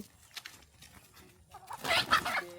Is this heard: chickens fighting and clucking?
yes